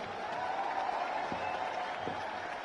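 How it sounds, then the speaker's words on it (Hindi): A crowd at a Bhim Army political gathering applauds, a faint, distant wash of clapping that holds steady throughout. "एक बार इनके लिए भी जोरदार ताली हो जाए।"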